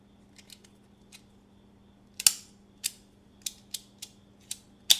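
A 3D printed plastic fidget toy gives sharp, crisp clicks close up, a few faint ones followed by about seven louder, irregularly spaced snaps over quiet background hum.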